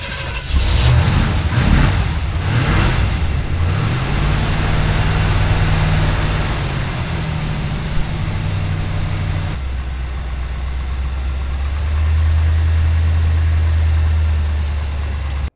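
A car engine cranks and starts, then settles into a steady idle heard from the open engine bay, with a constant power steering whine running above the engine hum and a shift to a lower drone near the end.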